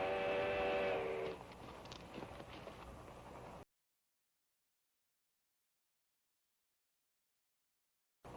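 A steam train approaching in an old Western setting gives a brief whistle blast, followed by rumbling rail noise that fades to silence for several seconds.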